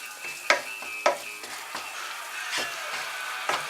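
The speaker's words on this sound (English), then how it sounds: "Give it a stir every now and then." Beef vindaloo cooking in a pan as it is stirred, a constant close sizzle broken by a few sharp scraping knocks of the utensil against the pan at irregular intervals.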